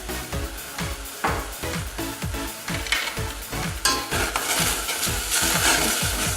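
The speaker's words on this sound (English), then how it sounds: "Stir all the ingredients into the okra and leave to simmer on low heat for about 5 to 10 minutes" Okra soup ingredients are stirred in a pot with a rhythmic series of scraping, knocking strokes, about two per second, over a low simmering sizzle.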